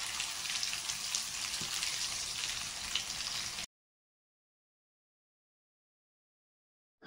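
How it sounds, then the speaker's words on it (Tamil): Ground coriander pachadi hitting hot tempering in a pan gives a steady, bright sizzle and fry hiss for several seconds, close and without talk, before cutting abruptly to silence. "இப்போ நம்ம அரைச்சி வச்சிருந்த கொத்தமல்லி பச்சடியை தாளிம்பில் போட்டுக்கலாம்."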